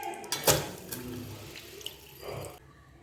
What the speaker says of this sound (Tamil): சட்டியில் இப்போ கொஞ்சம் தண்ணி ஊற்றி பிளாக்காயை வேக போடுறேன்